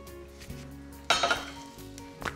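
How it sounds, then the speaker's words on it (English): Cooked spaghetti drained from a pot in a home kitchen, with a sudden close burst of rushing water and clattering metal cookware that fades quickly, surrounded by quieter kitchen clinks. "Now it's time to go drain the spaghettis."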